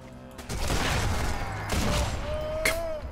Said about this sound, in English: This gun is so loud.